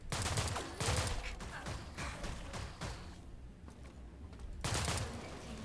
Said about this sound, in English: I know bullets on robots is not particularly efficient, but I have so much ammo for this